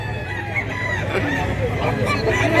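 A white gamecock crows amid a busy fowl market in Mantalungon, Barili, Cebu, against a constant noisy background of other birds and murmuring voices.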